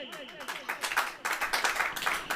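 Church congregants at a Hindi sermon clap together in bursts that swell in loudness partway through, with a voice speaking at the start and voices carrying on beneath the clapping.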